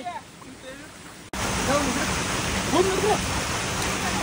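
After a brief quiet opening, the rushing water of Vasundhara waterfall cuts in abruptly as a loud, continuous roar, with faint voices heard over the torrent.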